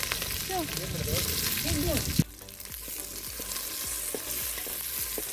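Onions fry with mustard seeds, curry leaves and green chillies in hot oil over a village wood-fired stove, a loud continuous sizzle with spoon stirring as someone speaks over it, then settling into softer crackling.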